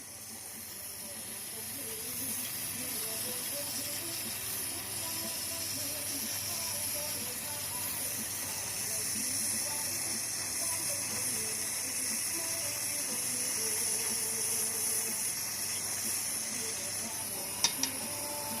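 Low-current welding repair on a cracked aluminium engine casing, a continuous close hiss and crackle running steadily throughout, with a couple of sharp clicks near the end.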